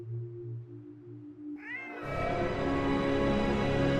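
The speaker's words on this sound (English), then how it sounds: "Damn cat!" In The Hand of Glory, a cat gives one short, sharp meow in a desolate West Miami alley after sunset, cut off as a louder rushing noise swells.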